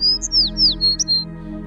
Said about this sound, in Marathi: मधुर किलबिलाट करणारे रंगी बेरंगी पक्षी